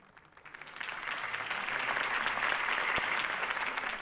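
Crowd applause at a political campaign speech in the Batman Telltale Series game, swelling in after a quiet start into sustained clapping that stays loud to the end.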